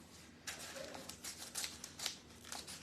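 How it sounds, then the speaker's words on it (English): A pair of scissors is handled close by in a quiet room, giving a series of soft, crisp metallic snips and clicks in an irregular rhythm. "It's a pair of scissors."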